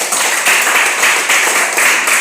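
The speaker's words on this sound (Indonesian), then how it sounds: "kita beri tepuk tangan untuk dia" A classroom of students applauds a classmate with loud, dense clapping that carries steadily throughout.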